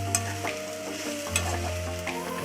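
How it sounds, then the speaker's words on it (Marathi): A spoon scrapes and stirs Bombil (Bombay duck) chutney in a hot pan, with rhythmic scraping strokes over a soft, steady sizzle, close and clear, with no voices. "चांगल्या पद्धतीने याला मिक्स करायचे, परतून घ्यायचे"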